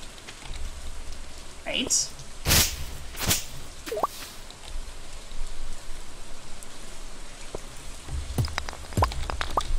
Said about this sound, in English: I'm going to get sick by being out in the rain.